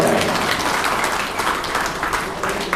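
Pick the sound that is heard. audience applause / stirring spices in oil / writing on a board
audience applause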